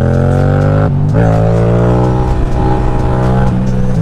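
A Yamaha MT-07 motorcycle engine revs hard and steadily while the rider lifts the front wheel in second or third gear, a loud, close, continuous drone that dips briefly and climbs again as the throttle is worked.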